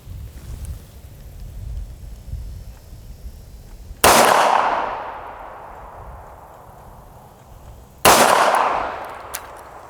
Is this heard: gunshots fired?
yes